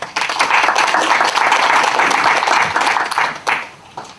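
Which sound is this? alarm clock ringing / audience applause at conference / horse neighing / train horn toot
audience applause at conference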